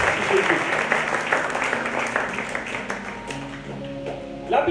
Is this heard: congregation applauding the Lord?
yes